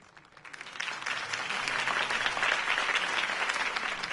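A crowd bursts into applause after a campaign speech in the Batman Telltale video game, the clapping swelling within a second to a dense, sustained roar of many hands that holds steady to the end.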